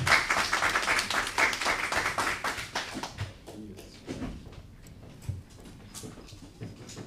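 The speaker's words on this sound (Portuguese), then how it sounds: "uma salva de palmas" An audience at a Black women's dialogue forum applauds with dense, close clapping for a few seconds, then the claps thin out and fade while voices and murmuring continue underneath.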